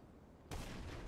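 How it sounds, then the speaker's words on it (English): A loud explosion in the GTA 5 video game bursts in about halfway through, a sudden broadband blast after quiet background that keeps rumbling to the end. "that was an explosion"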